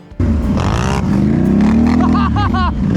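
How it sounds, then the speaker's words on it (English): A Can-Am fitted with a Yoshimura exhaust revs hard, giving a loud, continuous engine roar that swells and holds for about three seconds, close by. "Like when you hammer the throttle, it's got a really nice bark."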